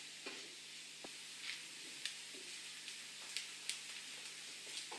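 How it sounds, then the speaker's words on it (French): Slices of bread browning in a frying pan give a soft, steady sizzle with faint scattered crackles and a few light ticks. The sound is fairly quiet and continuous, and no one speaks. "je fais dorer le pain sous la poêle parce que mon fils il aime mieux"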